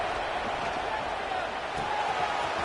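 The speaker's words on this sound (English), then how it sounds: "Listen to the crowd energy here in the early going" Dense, steady crowd roar fills a college football stadium during a Washington at Texas Tech playoff game, a continuous wash of cheering and chatter with no distinct breaks.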